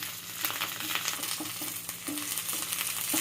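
Cumin seeds, green chili and coriander sizzling and frying in a pan for coconut mango chutney, a steady close hiss with faint stirring taps throughout, no talking.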